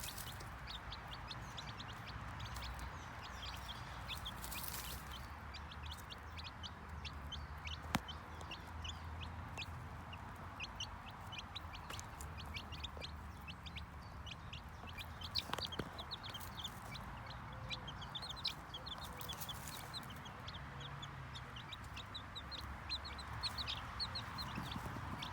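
Sussex chickens clucking steadily in a coop, with a few sharper calls and faint chirps over a constant background hum; no voices.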